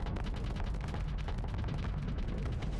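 A cargo launcher fires in the Starsector space game, giving a dense, rumbling barrage of booming bursts that runs continuously and loudly throughout.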